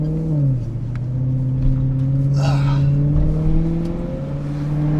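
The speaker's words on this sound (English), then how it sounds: "the throaty sound of it. It's intoxicating, and it just sucks you in." A deep, throaty engine of a 2009 Maserati Quattroporte Sport GTS sedan rumbles steadily, with tones rising as it revs and a brief higher whoosh midway; loud and close throughout.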